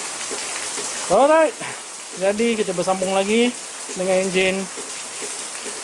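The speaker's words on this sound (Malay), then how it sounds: "Hujan lebat" Heavy rain falls steadily outside as a continuous loud hiss throughout, with someone talking over it.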